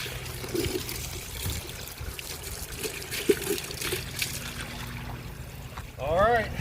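Water drains off during cleaning of a 65-gallon JBJ reef fish tank, a steady trickling and pouring close by that runs throughout, with a faint background hum.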